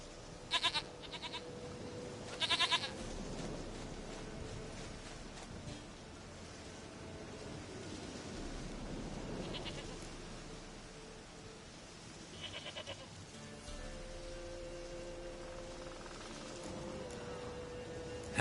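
A goat in a video game bleats several times in short bursts over a low ambient backdrop, fairly faint overall, with the calls standing out briefly near the start and later.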